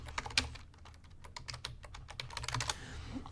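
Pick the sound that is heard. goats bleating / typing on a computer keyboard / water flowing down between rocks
typing on a computer keyboard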